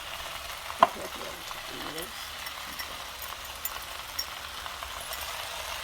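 Drunken noodles frying in a pan as sauce is stirred through them, giving a steady soft sizzle with a few scraping clinks of the utensil, and a short spoken remark early on.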